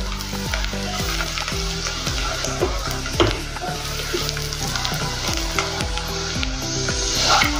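Loud, continuous sizzling of garlic cloves frying in hot oil, with scraping and stirring sounds from a utensil throughout.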